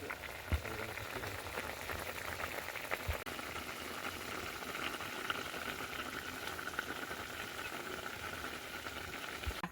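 Coconut simmers in a pot for Bengali coconut sweets, a steady low bubbling and gentle hiss that runs unbroken throughout, with occasional small knocks.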